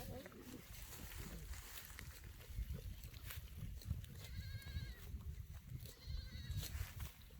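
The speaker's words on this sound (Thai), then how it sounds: "เราอยู่ตรงท่ามกลางฝูงแพะ ล้อมรอบไปด้วยแพะเต็มไปหมดเลย" Goats on a farm bleat among a busy, noisy herd, with a couple of clear calls rising above the steady rustle and background chatter of the animals nearby.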